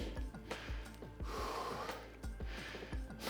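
Heavy, labored breathing from a player in airsoft gear after exertion, close to the mic: repeated sharp gasps and snorting inhales and exhales in an uneven rhythm, with no talk.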